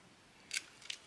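Scissors cutting paper for a travellers pocket notebook insert, three quick crisp snips spaced apart in an otherwise quiet room.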